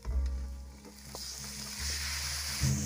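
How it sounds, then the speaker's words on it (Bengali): Marinated mutton dropped into frying onions gives a loud burst of sizzling and spattering, then a steady hiss of frying with a few stirring thuds and clanks, no speech. "এবার ম্যারিনেট করে রাখা মাংসটা দিয়ে দিচ্ছি।"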